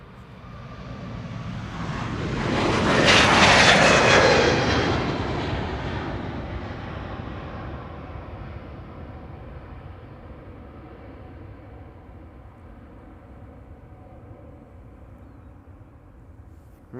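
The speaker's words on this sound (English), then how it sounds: "the A321neo on its way to Boston" An Airbus A321neo jet departs Amsterdam Schiphol Airport, its engine roar swelling to a peak as it passes, then fading into a long distant rumble.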